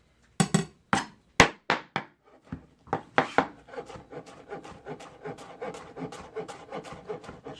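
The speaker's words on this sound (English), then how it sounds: "This is how you julienne basil." A knife chops basil chiffonade on a cutting board. First come several separate, sharp knocks of the blade on the board, then a quicker run of lighter, rhythmic cuts. The sound is close and clear, with no one talking.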